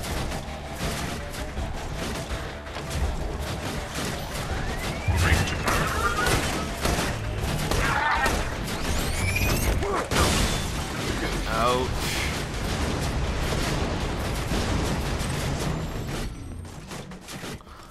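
Rapid gunfire and explosions from the shooter video game Borderlands 2 fill a dense, continuous barrage with crashes and booms, while a player's voice cuts in briefly over the action.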